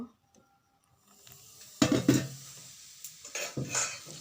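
Cupcake batter mixed with Eno and a little water in a bowl: after a near-silent start, a few close clinks and scrapes of a spoon against the bowl come in short bursts, with no talking.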